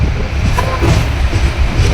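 The Samata Express passenger train, Visakhapatnam to Delhi, running on rails, a loud steady rumble with rhythmic clatter heard from inside a carriage.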